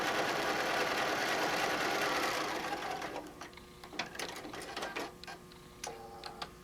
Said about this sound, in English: And then I'm just going to sew down.